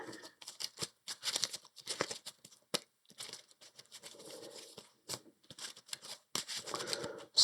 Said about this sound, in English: We'll shuffle the challenge deck.